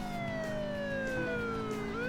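A police car siren wails in the Burnout 2 racing game on PlayStation 2, a steady sweeping tone sliding slowly downward over continuous engine and road noise, loud and close with no talking.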